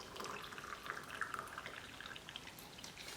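Hot water poured into a favorite mug holding instant hot chocolate powder, a faint, brief trickling pour with light splashy drips.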